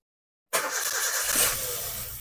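After half a second of silence a Toyota Avanza / Daihatsu Xenia engine starts abruptly and keeps running with a rough, uneven, loud roar close to the microphone.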